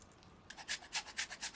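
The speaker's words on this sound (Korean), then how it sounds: "당근은 곱게 갈아주세요." A carrot is finely grated by hand at close range, giving a quick series of about seven rhythmic, raspy scraping strokes after a brief quiet start.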